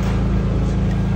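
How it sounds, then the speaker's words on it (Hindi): A 7.5 kVA ultra-compact trolley-mounted soundproof generator set runs nearby with its engine compartment door closed, giving a steady loud low hum and a regular engine throb that is constant throughout, with no voices. "ये जनरेटर सेट चालू है आपका"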